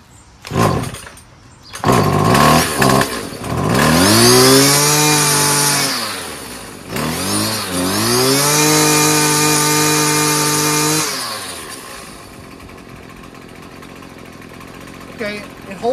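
A small two-stroke gas weed trimmer engine revs up in high, buzzing surges, then settles into a steady idle that keeps running on its own.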